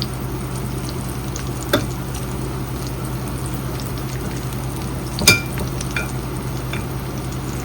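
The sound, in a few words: shrimp with salt, pepper and cornstarch frying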